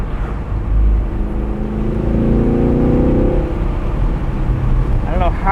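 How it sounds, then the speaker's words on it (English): A 2017 Chevrolet Camaro 2SS manual convertible in track mode lets out a loud, rising exhaust rev over a steady engine drone, heard from inside the car with a voice talking over it. "In track mode, the exhaust sounds perfect."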